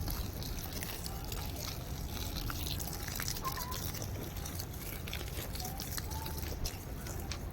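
A hose runs water onto potted plants and okra in a terrace garden. It makes a steady, soft, hissing wash with no break and no voices.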